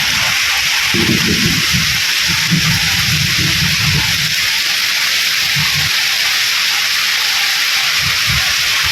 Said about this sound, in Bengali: এই যে আবার বৃষ্টি নেমে পড়ছে